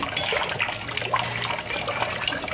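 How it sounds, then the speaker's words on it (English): Rice being washed in water for Jamaican-style stew chicken and rice: steady close sloshing and trickling water with no talk. "Yeah, so we're gonna wash the rice."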